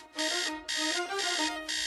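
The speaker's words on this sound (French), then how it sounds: "qui a branché ce réveil de merde" An alarm clock rings loudly and steadily, its shrill electronic tone arriving in four bursts separated by brief dips, with no voices.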